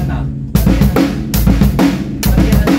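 A steady drum pattern of hi-hat and snare plays close and loud, with a short quiet lead-in before the beat kicks in.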